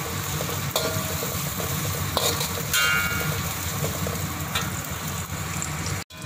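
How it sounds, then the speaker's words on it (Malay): Anchovies (ikan bilis) frying in hot oil until crispy, giving a steady close sizzle and bubbling with occasional stirring clinks and scrapes of a utensil in the pan. "goreng ikan bilis sampai garing ya"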